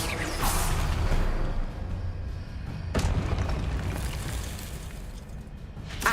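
Confringo blasting spell going off in Hogwarts Legacy: a loud booming blast with a sharp crackling burst near the start, another bright impact around the middle and a third at the end, over a rumbling low roar.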